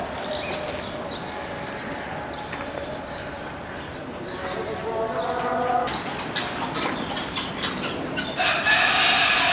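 Roosters crow and hens cluck in a fowl enclosure behind Dolmabahçe Palace in Istanbul, mixed with mid-distance ambient noise and rising calls toward the end.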